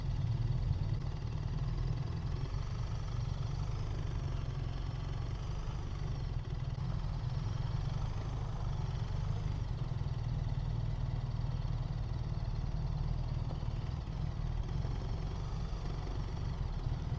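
A BMW R 1300 RS motorcycle with an automated shift system pulls away from a stop, its engine a steady, loud low rumble that holds evenly throughout with no talk over it.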